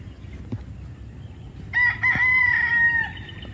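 A gamecock crows once on a Philippine farm, a clear drawn-out cry rising over faint background noise, fairly close.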